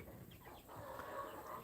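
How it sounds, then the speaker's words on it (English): A Moran rooster named Bernie clucking on a farm, faint low clucks scattered over a short stretch amid quiet outdoor background noise. "the Moran rooster is right here"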